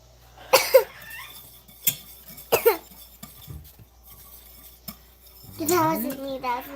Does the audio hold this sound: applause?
no